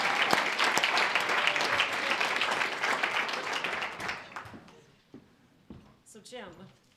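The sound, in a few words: applause for award winners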